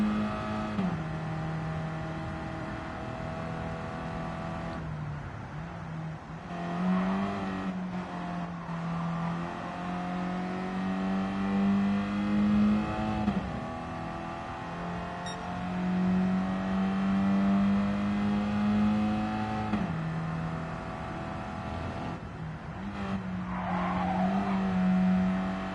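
A 2014 Honda Fit Hybrid's engine revs high while the car is driven through corners. The tone climbs steadily and drops back at each gear change, close and loud, and keeps up without a break the whole way.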